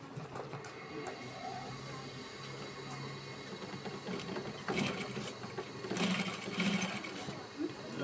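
A sewing machine stitches fabric in a steady mechanical whir and rattle that runs throughout, with a voice speaking over it.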